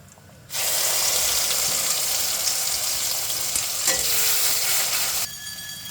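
Ground spice paste drops into a hot pan and bursts into a loud, continuous sizzle that holds for about five seconds before easing off, close up with no talking.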